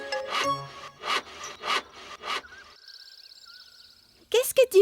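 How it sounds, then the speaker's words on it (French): Cartoon sawing as a character cuts large wooden logs into planks in a forest, five regular back-and-forth rasping strokes, then a whistling tone and a brief voice at the end. "Je suis en train de scier de grosses bûches en planches"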